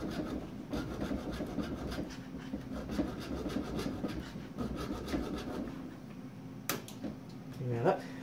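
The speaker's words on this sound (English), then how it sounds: "I can just sand the edge smooth there" Continuous rough rubbing as the edge of a 3D-printed part for a Tronxy X3 printer mod is sanded smooth, close and steady, ending with a brief clatter. Speech is faintly present.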